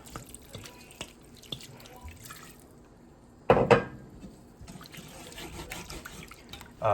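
Sauce poured into a pan holding beef trimmings to deglaze it while cooking a beef Wellington gives a short, loud sizzling splash midway through an otherwise quiet, faintly dripping kitchen background.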